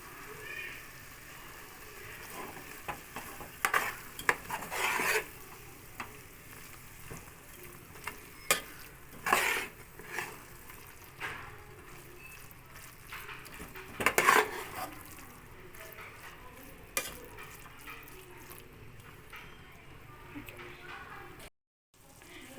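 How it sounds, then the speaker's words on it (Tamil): Mint and coriander being stirred into mushroom biryani in a pot over a low, steady sizzle, with clinks and scrapes of a utensil against the metal coming in scattered bursts and a short pause near the end. "ஆட் பண்ணிவிட்டு நம்ம நல்லா மிக்ஸ் பண்ணிக்கலாம்."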